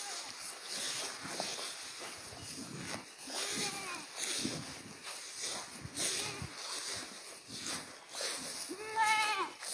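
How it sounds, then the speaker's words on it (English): Several small goats bleat repeatedly in a fenced pasture, their wavering calls rising over steady outdoor noise, with a louder cluster of bleats near the end. "draw some of these little goats down here"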